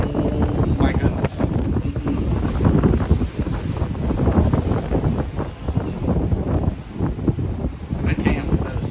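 Strong, steady wind buffeting the microphone while riding outdoors, a loud continuous roar with gusty swells that never lets up, with a voice heard under it.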